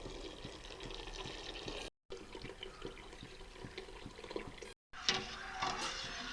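Milk, 2.5 litres, pours into boiling water in a pot for Ambalapuzha palpayasam, a continuous close splashing gush broken by short cuts, ending with a brighter sizzle and bubbling.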